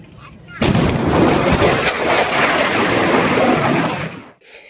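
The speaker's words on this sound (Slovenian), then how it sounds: "Ko nas rob stožca doseže, to slišimo kot glasen pok" A supersonic aircraft's sonic boom hits as a sudden loud blast, then a heavy rumbling roar holds for several seconds before cutting off, followed by a brief faint voice.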